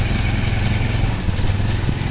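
A motorcycle engine runs steadily and close while riding through flood water, a constant mid-pitched drone with no talk over it.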